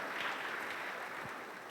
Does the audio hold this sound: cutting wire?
no